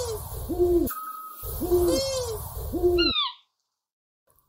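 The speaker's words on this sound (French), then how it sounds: "Écoutez plutôt le petit-duc, le moyen-duc et le grand-duc." Scops owl, long-eared owl and eagle owl call in turn: a run of repeated low, clear hoots, then a brief burst of higher, sliding notes, loud and close, before sudden silence.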